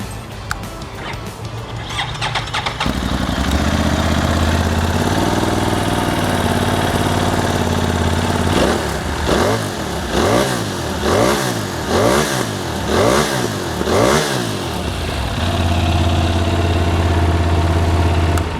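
A loud 2022 Yamaha Tracer 900 motorcycle engine with an aftermarket exhaust idles with a deep throaty note, then revs up and down repeatedly in sharp bursts before settling back to idle.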